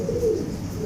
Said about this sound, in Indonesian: Burung ini saya beli udah